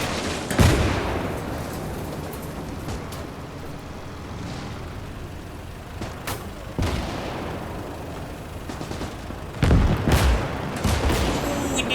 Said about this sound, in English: we did hit him with the artillery gun.